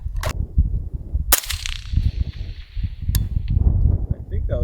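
AR rifle fired at targets outdoors, with three sharp, loud cracks at irregular spacing, the middle one trailing a brief ringing tail, amid handling noise and background rumble.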